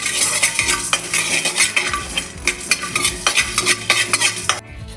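Fenugreek, pepper, coriander seeds and cumin frying in a pan for Mangalore fish curry, a steady close sizzle with a spoon scraping and clinking against the pan in repeated strokes, no talking.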